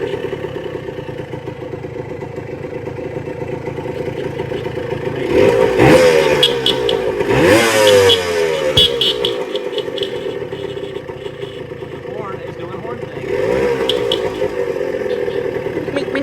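A vintage motorcycle engine, revived after sitting for 24 years, runs steadily nearby with a throbbing idle, rising into louder revs twice and again near the end, with mechanical clatter and no talking.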